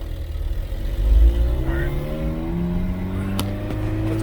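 A car with a wonky clutch and a plugged intake manifold pulls out into traffic, its engine rising steadily in pitch as it accelerates, close and fairly loud, with a brief low thump near the start.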